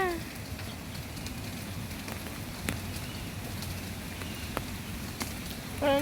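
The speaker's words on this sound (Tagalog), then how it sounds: "hindi siya titigil kasi yung ulan na to is parang hanggang maghapon na to guys." Rain falls steadily in Hong Kong, a constant pattering hiss with occasional sharper drips and taps. Faint voices are heard briefly at the start and end.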